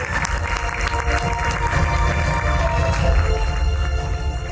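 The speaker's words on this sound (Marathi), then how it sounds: "या हरहुन्नरी कलाकारांसाठी एक जरा जोरदार टाळ्या झाल्या पाहिजे." Audience applause at a cultural stage event honouring actor-director Santosh Pawar, a dense continuous wash of clapping from a large crowd, loud and sustained without a break.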